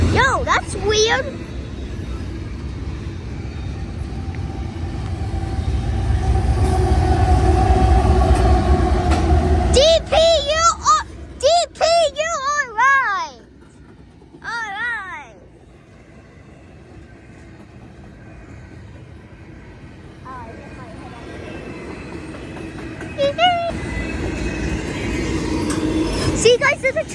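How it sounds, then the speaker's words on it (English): An Ohio train rolls by with a heavy low rumble that peaks early, then drops away into quieter surroundings as people chatter and exclaim throughout. "See, guys, there's a train."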